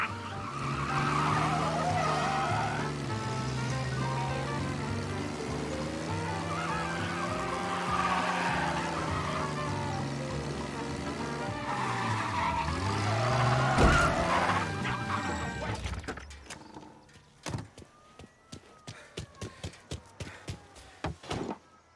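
A car driven recklessly in Mafia Definitive Edition skids with long tire squeals over a revving engine, then the noise gives way to a series of sharp, scattered knocks and clatters near the end.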